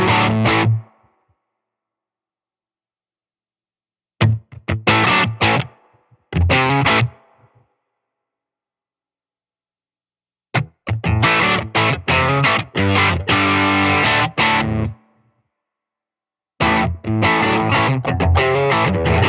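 Electric guitar driven through a Vongon Solarfaze distortion pedal with the treble pulled back for a darker tone, heard in loud distorted bursts and chords separated by gaps of silence.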